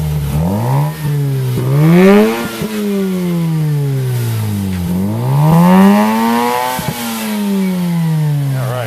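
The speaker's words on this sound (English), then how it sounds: "just play around with the throttle real quick" A Mazda RX-8 fitted with an eBay aftermarket exhaust revs up and down repeatedly, its loud engine note rising and falling in several sweeping throttle blips, close by with no talk.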